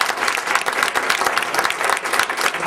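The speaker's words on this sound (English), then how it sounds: "let's have a round of applause for our" Audience applause at the close of a venture capital panel on mobility, a steady, dense wash of clapping from a crowd that fills the room at even loudness throughout.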